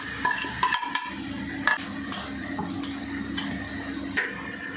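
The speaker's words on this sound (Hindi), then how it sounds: "आलू मैश कर लेंगे और ये जो सारे स्पाइसेस हैं ये इसमें डाल के मिक्स कर लूँगी मैं" Boiled potatoes are mashed and mixed with spices in a bowl, giving a run of clinks, taps and soft scraping from a utensil against the bowl, close and fairly quiet with no talk.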